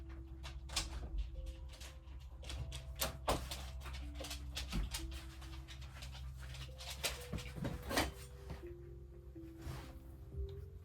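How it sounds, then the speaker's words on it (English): A dog whimpers with drawn-out whines, joined by a few sharp yelps and some door and household clatter. "No barking, Luna."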